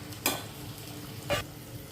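Spices, including Kashmiri red chili powder and pav bhaji masala, sizzling in a pan of frying vegetables, a quiet steady fry broken by two brief scraping stirs.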